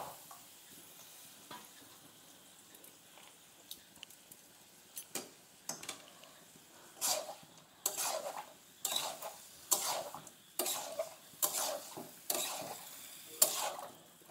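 Hand-mixed chicken being stirred in a bowl for a Bengali village chicken curry, quiet at first, then a run of repeated scraping and clattering strokes growing louder and more regular toward the end.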